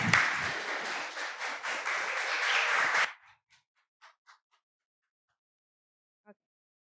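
An audience at a student speaking event gives a burst of full applause for about three seconds, then it stops abruptly, leaving a few faint stray claps.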